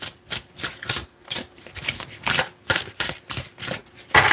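Tarot cards being shuffled in steady repeated bursts of crisp riffling, close and fairly loud, with short pauses between each pass and no talking.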